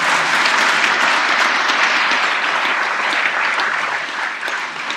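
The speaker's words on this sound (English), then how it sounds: "Okay, you're supposed to applaud now." Sustained applause from a large crowd, a dense steady clatter of clapping that holds for several seconds before easing slightly at the end.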